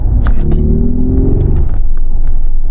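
A loud, close, low engine-like hum drones with a steady humming tone that sounds slightly synthetic, over deep rumbling: the artificial engine sound played through speakers by an electric Mercedes G580.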